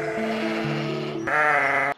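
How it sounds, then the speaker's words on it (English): Sheep bleating loudly and close, a long wavering cry that shifts pitch partway through and then cuts off abruptly, with no talk over it. "Now Abel was a keeper of the sheep"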